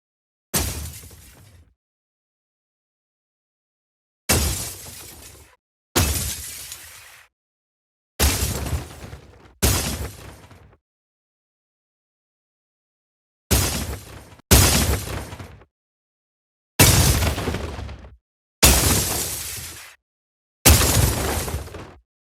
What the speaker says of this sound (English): here's some impact sounds